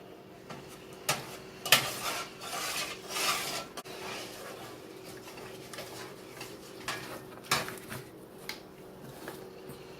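Tomato soup being stirred in a pot, a spoon scraping and clinking against the metal in irregular strokes, close and moderately quiet, with no talking.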